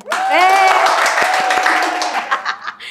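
A studio audience breaks into applause mixed with laughter and cheering, loud and close, fading into scattered claps over about three seconds.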